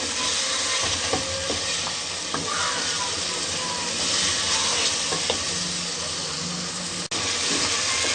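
Mutton sizzles steadily in hot oil for aloo gosht while being stirred, with continuous close frying crackle and occasional scraping knocks from the stirring; no one speaks.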